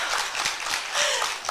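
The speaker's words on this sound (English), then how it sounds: "Can you give me a clap?" Audience applause at an integrative medicine and mental health conference, a steady wash of many hands clapping at moderate volume for about a second and a half, with no voices over it.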